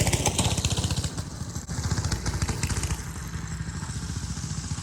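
Small engines of a quad bike and a go-kart running together, a buzzing, rattling drone with fast regular pulsing and brief dips in revs, fairly close, with no talking.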